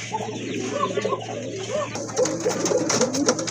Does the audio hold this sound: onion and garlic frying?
no